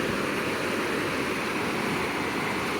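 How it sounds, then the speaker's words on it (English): Missouri Ozark spring water boiling up from the middle of a large spring running high, a loud steady rushing roar close by, continuous with no talk. "there's more water just boiling out right there in the middle"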